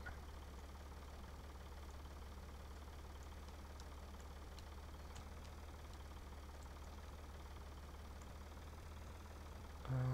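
A tractor engine in the Farming Simulator 2013 video game idles and runs at a steady, continuous drone throughout, loud and unchanging with a low rumble, briefly swelling at the very end.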